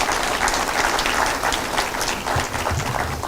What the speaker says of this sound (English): So give ourselves a round of applause.